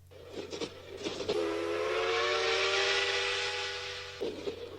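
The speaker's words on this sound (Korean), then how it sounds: "북행열차는 검은 연기를 토하며 긴 뱀같이 구부러져 더블유역에 들어선다." A steam train whistle sounds a long sustained multi-tone blast over rumbling rail noise as it enters a station, with brief chuffs and clanks before and after.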